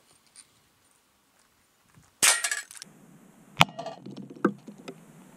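A single sharp .22 caliber gunshot fired at bulletproof glass cracks loudly after a quiet pause, followed by crunching, tinkling glass debris and a couple of smaller impacts against a faint hum.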